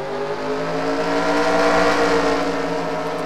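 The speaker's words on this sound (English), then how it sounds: "Trucks are rolling off." Race trucks rolling off at Talladega in a racing video game, a steady, loud engine drone from the pack holding throughout with no talk.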